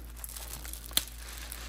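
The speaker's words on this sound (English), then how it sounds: "these foil insulated bags" A foil insulated shipping bag holding live Amano shrimp crinkles softly as it is handled, with faint rustling and one sharper crackle midway, close and quiet with no talking.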